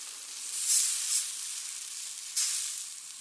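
Stock hitting a hot pan of reduced sauce for chicken saltimbocca, giving a sharp burst of bright hissing sizzle that swells twice and then settles into a steady simmering fizz, close and moderately loud.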